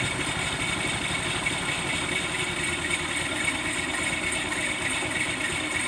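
A scooter engine idles steadily at low revs, a close, continuous putter with an even rumble and no talking.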